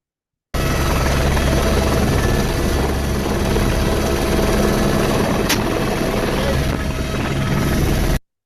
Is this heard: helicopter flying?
yes